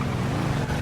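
A new motorbike in a GTA roleplay game gives off a short, steady engine drone at close range, with no one talking over it.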